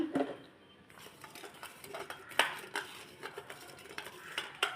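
Food being mixed in a pot, with quiet scraping and repeated utensil clinks against the metal that come in uneven bursts. The sound is close and fairly soft, and no one speaks.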